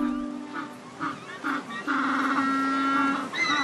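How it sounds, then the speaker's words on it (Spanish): Young male African penguins calling in a coastal colony, a series of harsh, nasal braying honks like a donkey's, several short calls rising and falling before a longer drawn-out bray, fairly close and loud. "Con este sonido, no extraña que a veces se los conozca como los pingüinos burro."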